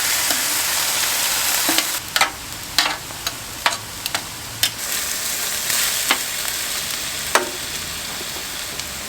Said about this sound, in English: now it's time to turn our beef. We're going to use the tongs